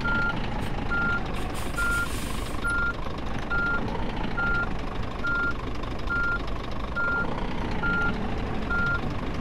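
Reversing beeps from a truck in the On the Road driving simulator, a steady evenly spaced series of loud electronic tones repeating about twice a second over a continuous engine rumble.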